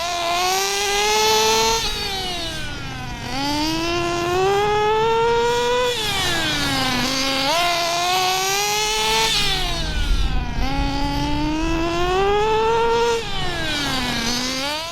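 A Redcat Racing nitro RC car engine runs steadily and loudly nearby, its high buzzing whine rising and falling in repeated revving sweeps throughout.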